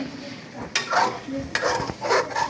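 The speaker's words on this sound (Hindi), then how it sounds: "तो चिकन बिरयानी बन रही है आज।" Chicken biryani stirred in a sizzling pan, with scraping strokes of a utensil over a steady frying hiss, close and loud.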